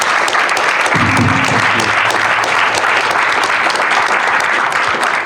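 Loud, sustained audience applause for a speaker on a comics new-talent panel at the Thought Bubble festival, a dense and even roar of clapping from a full room that carries on throughout.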